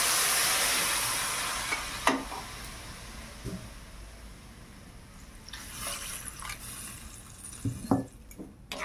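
Spice-paste water hits a hot pan with a loud hiss that fades into steady sizzling, broken by a few clinks and stirring scrapes, with no talk.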